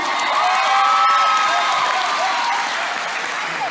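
A crowd at a neighborhood dance show in Kourou applauds the dancers, with loud sustained clapping mixed with cheers and shouts, some whistling or high calls rising over the steady roar.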